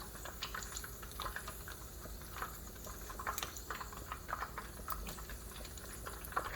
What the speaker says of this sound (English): this oil is bubbling hot